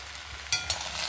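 Potatoes, onion and green chilli fry in hot coconut oil, a soft continuous sizzle with two brief scraping stirs near the middle, close and quiet.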